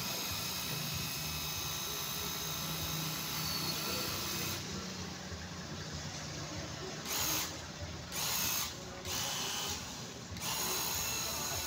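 A cordless pressure washer's motor runs with a steady high whine and hissing water spray close by, cutting off and restarting in short bursts toward the end.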